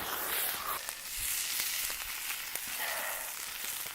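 Oil sizzles and crackles steadily in a pan with green chili, cooked outdoors over a fire for a snowy camp breakfast, with a dense hiss and scattered small pops throughout.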